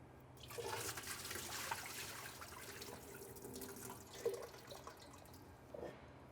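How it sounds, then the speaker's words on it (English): Water pours and trickles as cooked noodles are drained into a sink, a quiet, close splashing stream with a few clinks, no talking. "I'm going to drain the water from my noodles and start adding them to the pan"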